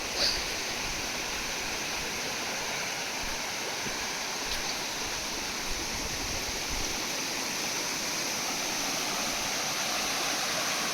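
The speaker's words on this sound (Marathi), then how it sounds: "आपल्याला एक छोटासा धबधबा टाईप लागतो तर तुम्ही बघा थोड्या वेळात आवाज येतो आहे" A continuous rushing roar of falling water from a small waterfall, steady and even throughout with no voices.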